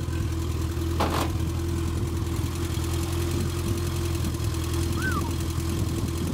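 A 1960 Renault 4CV engine idles steadily and close by, a smooth low mechanical hum with an even rhythm throughout, with a brief faint click early on and no talking.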